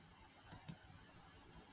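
Two quick, crisp computer mouse clicks close together, faint and close, in an otherwise quiet room.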